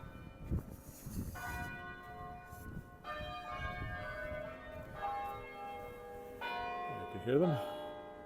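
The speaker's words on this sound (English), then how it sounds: "There's Knox Met. You can hear the bells." Church bells at Knox Met, rung by hand on a winter street, peal in overlapping strikes of varied pitch with long ringing tails, heard from the sidewalk amid soft outdoor ambience and light traffic noise.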